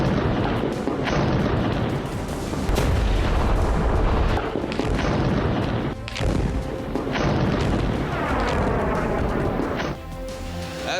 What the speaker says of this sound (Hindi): गाजा पर बम बरस रहे हैं, गाजा की धरती थर्रा रही है।